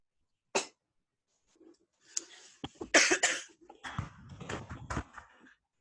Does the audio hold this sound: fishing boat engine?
no